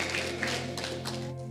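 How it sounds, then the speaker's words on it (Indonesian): Lively applause from a church congregation at an evening worship gathering, many hands clapping in a thick, steady roar over a held organ-like drone, fairly loud and unbroken. "Tepuk tangan lebih meriah."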